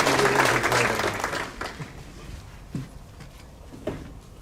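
Applause for a honoree at the Topeka Public Schools Distinguished Staff Awards, a burst of clapping that fades within about two seconds, leaving scattered claps and faint room sounds.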